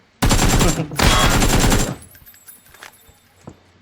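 Rapid automatic gunfire from the battle royale game PUBG, two loud, dense bursts of shots back to back, then a fading tail of quieter scattered sounds.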